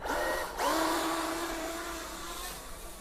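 A Traxxas RC truck on Sledgehammer tires rips around outdoors, its electric motor whining loudly and rising in pitch as it accelerates away, then settling into a sustained buzzing drone.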